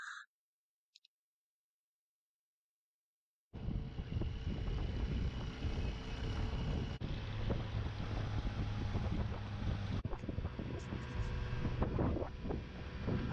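After a brief near-silent start, a motorboat's engine drones steadily as it travels upriver on the Altamaha River, wind rushing across the microphone, loud and continuous to the end.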